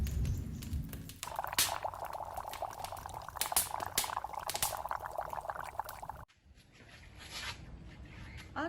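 Chicken in a bamboo tube (ayam pansuh) cooks over an open fire, with steady bubbling, hissing and crackling that cuts off abruptly and gives way to quieter, thinner simmering.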